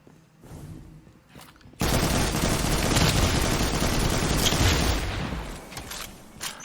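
Video game gunfire aimed at yellow sacks: a sudden, dense, loud burst of rapid shooting that starts abruptly and roars for about three seconds before tapering into quieter action noise.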